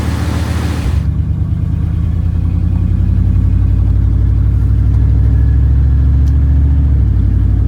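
A 1994 Chevrolet Suburban with a transmission whine drives along. Its engine gives a loud, steady low rumble heard from inside the vehicle, joined after a brief opening by a faint continuous whine.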